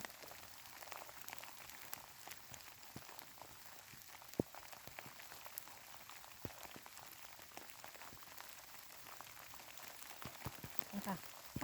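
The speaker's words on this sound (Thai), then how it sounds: "ฝนตก" Steady rain patters on a surface, a soft, dense hiss with scattered droplet taps throughout.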